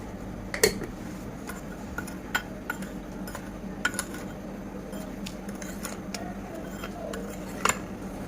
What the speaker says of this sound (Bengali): এখন 2 চামচ কফি মিক্স করে নিব।